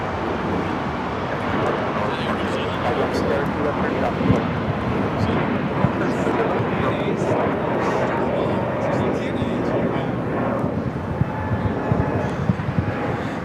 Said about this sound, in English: Jerusalem of Gold special livery on this Dreamliner, now heading to 25 at right